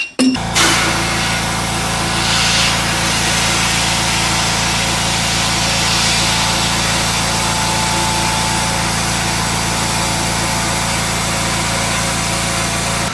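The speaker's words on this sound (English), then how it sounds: "let's hop in the blaster and let's get these bad boys done" Abrasive blasting of metal parts for a 6.0 Powerstroke inside a blast cabinet, a loud, continuous rushing hiss under a steady compressor-like drone that starts abruptly and runs unbroken, with no speech.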